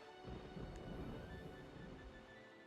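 A rolling rumble of thunder during a stormy morning at sea in a video game, low and continuous for a couple of seconds before fading slightly, with no voices.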